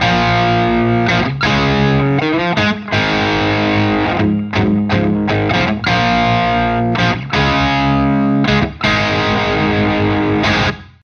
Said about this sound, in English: during the final chorus, we have a little drop down section which has a slight variation on the chords that you hear in the chorus